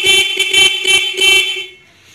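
A loud motorcycle horn, a pair of 12-volt horns wired through a relay, honks in quick repeated blasts, about five pulses in a row, close by, then cuts off leaving faint background noise.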